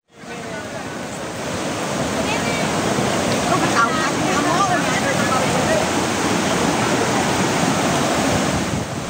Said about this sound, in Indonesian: Banjir bandang menerjang desa Lokalaba